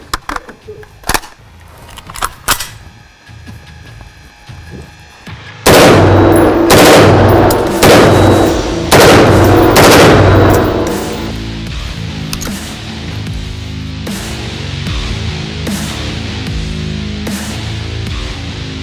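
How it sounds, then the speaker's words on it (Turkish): A KALEKALIP KNG C5 rifle fires sharp single shots at a test range, loud and close with echoing tails, then breaks into rapid bursts of automatic fire that fade into a steady rhythm of repeated cracks. "Şimdi hem dipçik açıkken hem de kapalıyken tekli atışlar gerçekleştireceğiz. Ardından ise KNG C5 ile seri atışlara geçeceğiz."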